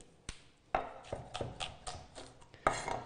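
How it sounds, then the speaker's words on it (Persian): Knife chopping onions on a cutting board while making French onion soup: a series of sharp, close taps at an irregular rhythm, with a small clatter of kitchen utensils in a quiet room. "این برش ها اگر طول پیاز زیاد باشه ما نیاز داریم که پیاز رو دونیم بکنیم"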